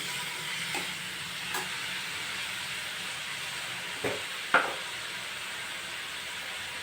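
Green onion and sev curry simmers in a pan with a soft steady sizzle, broken by a few faint scrapes and clacks as it is stirred, no voices.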